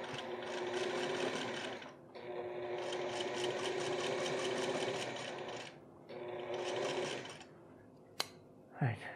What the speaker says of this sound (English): I can now sew all these layers together.